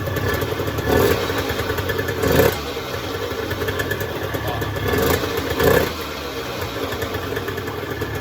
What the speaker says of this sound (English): Right, so that's the bike running.